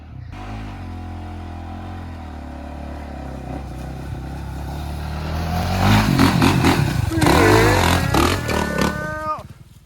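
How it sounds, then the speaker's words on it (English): A Honda 450R dirt bike revs hard climbing a loose hill, engine pitch rising and sweeping through gear changes, loud and close with clattering and scraping, while people talk faintly. "take the new dirt bike up Camelback"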